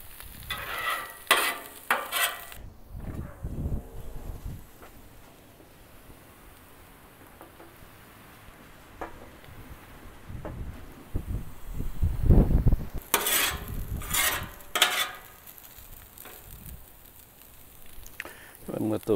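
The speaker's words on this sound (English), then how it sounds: "Throw a couple eggs on. Let it cook a few minutes there" Eggs frying on a Blackstone griddle alongside bacon and sausage, a low background sizzle with scraping and clattering spatula strokes in bursts, while someone talks over it.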